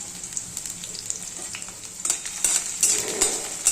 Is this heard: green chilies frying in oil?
yes